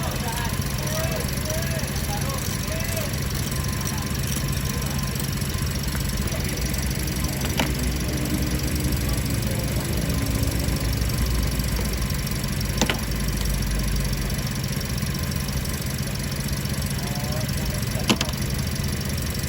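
Rough-running car engine with a misfiring ignition coil, checked with the motor on in a repair workshop, gives a steady uneven low drone throughout with a few sharp clicks, while people talk over it.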